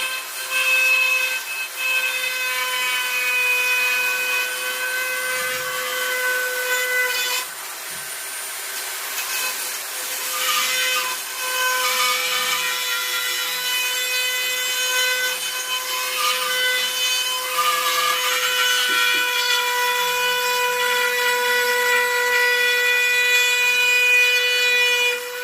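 A Dremel rotary tool grinds continuously into an old taxidermy mount being refurbished, a high steady whine with shifting pitch as the bit bites, close and loud throughout.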